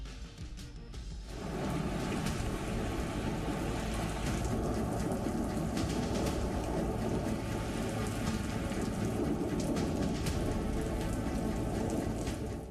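Heavy monsoon rain pours down in a dense, steady roar that builds within the first second and then holds loud and unbroken, with a low rumble like thunder beneath it and no voices.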